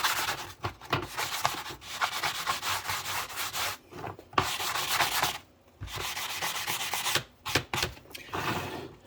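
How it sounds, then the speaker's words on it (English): A sanding sponge rubs a surface clean with steady, close back-and-forth scrubbing strokes, broken by a few short pauses and then resumed in brisk passes. "So I'm going to take a sanding sponge here now."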